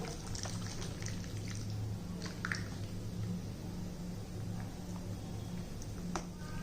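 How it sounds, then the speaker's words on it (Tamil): Buttermilk pours quietly into a pot of horse gram porridge, a soft liquid splash and trickle that runs for several seconds at low volume. "இப்போ நம்ம மோர்லாம் ஊற்ற போகிறோம்"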